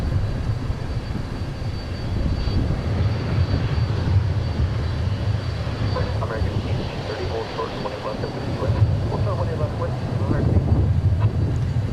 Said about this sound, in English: And then we have a 767 taxiing out as well.